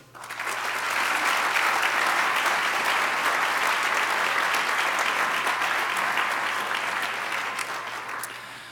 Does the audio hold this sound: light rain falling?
no